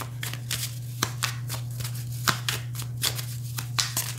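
A tarot deck being shuffled by hand, giving a run of quick papery riffles and soft card slaps at an irregular rhythm. They sound close and clear over a steady low hum, with no talking.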